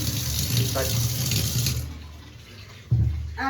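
Water gushes forcefully from a broken pipe, stops abruptly, then bursts back on a second later, loud and close, with a brief voice in between.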